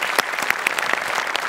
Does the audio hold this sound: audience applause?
yes